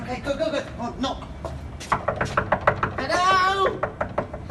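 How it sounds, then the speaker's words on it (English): A few sharp knocks on a door, close and distinct, break through excited chatter from several voices, with a squeaky higher voice near the end. "Oh, knock."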